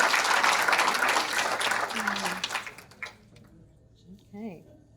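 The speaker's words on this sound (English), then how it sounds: "Let's give them another round of applause." Audience applause for award nominees and their parents at a Citizen of the Year awards ceremony, a dense wash of clapping for about three seconds that quickly fades out, leaving a quiet room with faint voices.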